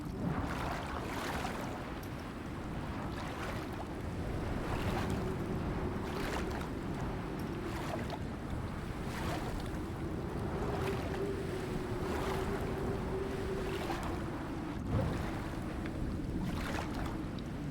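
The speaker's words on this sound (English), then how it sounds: "Just out for a nice swim." A video game character swims through water, with a steady wash of sloshing water and rhythmic stroke splashes recurring every second or so, moderately loud and without talk.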